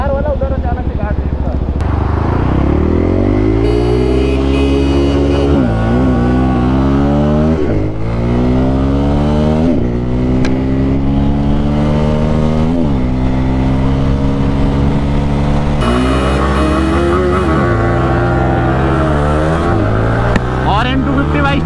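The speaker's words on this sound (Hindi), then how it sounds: "देखो भैया हम लोग का ड्रैग रेस कर लें दो" A Yamaha R15 V4 and a Bajaj Pulsar N250 motorcycle drag racing, engines revving hard with repeated rising pitch sweeps through gear changes, loud and close, while people talk over the noise.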